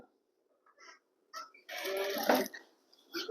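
A sewing machine stitches a rolled frill along the hem of a petticoat, running in short, faint bursts with one longer run of stitching near the middle and quiet gaps between.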